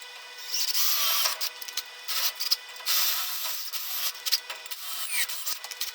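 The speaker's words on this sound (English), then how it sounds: "I'll use a couple different drill bits just to get it started" A power drill bores into a metal car exhaust damaged in a crash, a harsh, whining grind that surges and dips as the bit bites, close and continuous with brief pauses.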